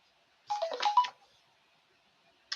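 A phone's text message notification chimes a short burst of bright electronic tones, then a single brief tone follows about a second and a half later, faint and close in a quiet room.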